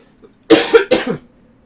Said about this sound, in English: Sorry, excuse my coughing.